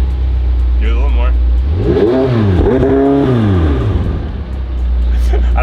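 A 700-horsepower sports car engine revs in a couple of rising and falling surges over a heavy, rumbling idle, very loud and close, with people talking over it.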